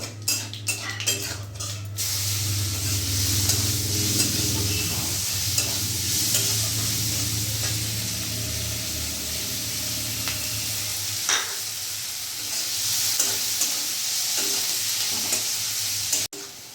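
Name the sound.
chopped onion frying and being stirred in a pan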